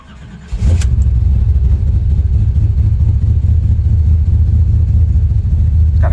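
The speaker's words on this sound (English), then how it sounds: "It's got a great sound to it, this motor." A 1989 GMC Sierra SLE C3500 dually pickup with a 502ci V8 starts up with a brief crank, then settles into a loud, steady, deep engine rumble close by, alone without talk.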